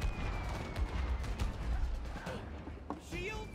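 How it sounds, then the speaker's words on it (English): Airstrike blasts rumble and pound in the co-op game It Takes Two, a dense, low barrage of explosions with faint voices mixed in. "watch out for the airstrike"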